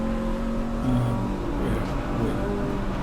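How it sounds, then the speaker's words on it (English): Renault Clio race car braking and accelerating at Croft circuit, its engine droning loud and close inside the cabin with shifting revs, and a voice talking over it. "here we are in the Clio, losing the rear on the braking phase"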